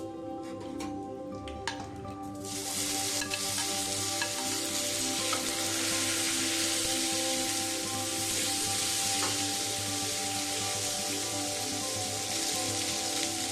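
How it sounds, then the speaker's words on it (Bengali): Cumin seeds, fennel and tomatoes frying in oil over low heat, a steady close sizzle with a dense crackling hiss, a few light clinks and stirring touches near the start, otherwise continuous and even throughout. "এবার আমি তেলের মধ্যে দিয়ে দেবো 1 টিস্পুন জিরা, মৌরিটাও দিয়ে দেবো, হালকা গ্যাসে এটা ভেজে নেব"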